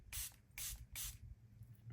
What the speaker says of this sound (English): and spray it with the setting spray.